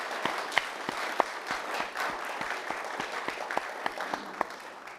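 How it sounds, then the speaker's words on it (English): Audience applause at the SJSU Grad Slam 2023 for student presenters: dense, steady clapping from a crowd with a few sharper individual claps standing out, moderately loud and continuous throughout. "Can we have a round of applause for these fantastic students?"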